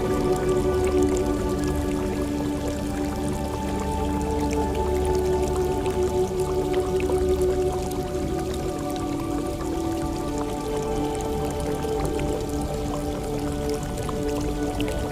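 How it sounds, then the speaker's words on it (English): Steady, continuous rush of flowing water with a broad, dense wash of sound, like Grojogan Sewu waterfall and its stream heard fairly close, with no voices. "Waterfalls, like Grojongan Falls, are typically supplied by rivers or streams that flow through a landscape."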